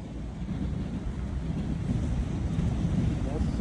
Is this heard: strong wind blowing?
yes